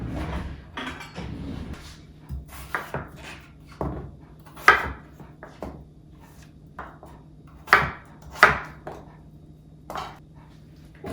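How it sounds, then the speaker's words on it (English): Irregular knife strikes chopping turnip on a cutting board, sharp taps spaced unevenly with quiet gaps, close by, with occasional light clatter. "we are going to cut these guys up a little bit so that it's a little bit easier for the blender"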